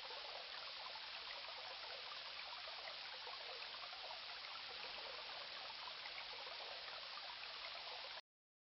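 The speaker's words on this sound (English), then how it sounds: "The water flows." Steady flowing water in the King's Quest I game, a faint, even hiss of a stream running continuously and alone before cutting off abruptly.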